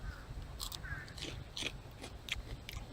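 Crunchy bites and chewing on a fresh, sweet garden vegetable outdoors, several sharp crisp crunches spaced over a few seconds, close and fairly quiet over low background rumble.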